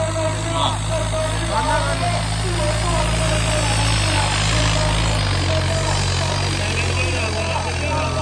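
A loud tractor engine idles and chugs steadily with a deep, continuous rumble, close by, while a voice talks over it, at a village trolley-pulling contest.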